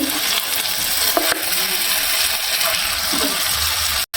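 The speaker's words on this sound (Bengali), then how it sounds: "তেলটা গরম হয়ে গেছে আস্তে আস্তে এবারে বড়াগুলো ভাজবো এই যে দিলাম তেলে" Lentil vadas dropped into hot oil a few at a time, giving a steady close sizzle with light popping and a brief scrape near the end.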